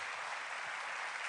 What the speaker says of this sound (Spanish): alabe al Señor con ese aplauso fuerte